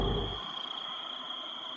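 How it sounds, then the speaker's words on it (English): Crickets chirp at night in the Ozark National Forest, a steady, unbroken high trill that stays at an even, moderate level and fills the dark with no other sounds. "You hear the crickets?"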